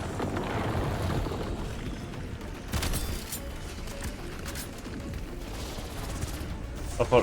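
Dense, continuous gunfire and explosive bursts from the Black Ops 7 Astra Malorum zombies mode roll through the whole stretch, with sharper cracks near the middle and end and faint voices underneath.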